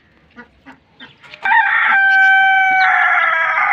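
Rooster and hen squabbling in a cage, a few short clucks and scratches followed by a loud, sustained crow-like call from a rooster close by, with no talking.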